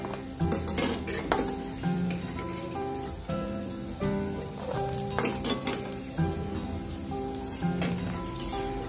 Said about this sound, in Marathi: मी अशाच प्रकारे या शंकरपाळ्या तळून घेते